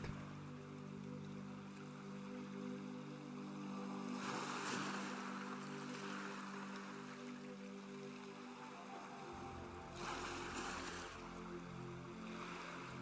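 Ocean waves wash in steady surges, with two louder breaking swells partway through over a constant low rumble of water.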